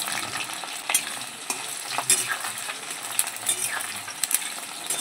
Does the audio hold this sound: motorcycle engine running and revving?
no